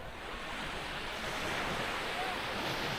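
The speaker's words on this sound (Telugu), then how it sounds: "ఇక్కడ ఇది ఓం బీచ్, అది కుడ్లే బీచ్." Waves at Om Beach in Karnataka keep up a steady, soft wash of surf with a light breeze, continuous and moderately distant, with no talking.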